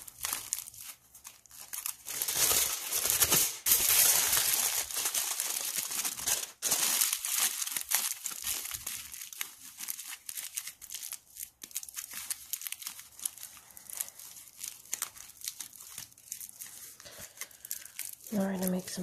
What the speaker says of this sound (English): we're going to just keep covering this with pieces of tin foil until we get the shape